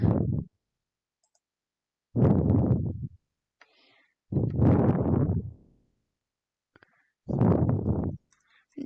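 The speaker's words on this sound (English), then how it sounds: "I gotta type in the chat." Keyboard typing for a game chat, heard as three or four dense bursts of rapid clicking, each lasting about a second, with short silent gaps between them and no talking.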